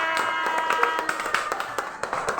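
Children clapping their hands along to an action song in a classroom, a run of sharp, uneven claps over faint singing, fairly close and moderately loud.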